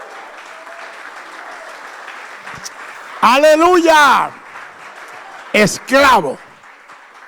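Two bursts of enthusiastic clapping from a church congregation, each a second or so long, separated by a shout and backed by a quiet hum.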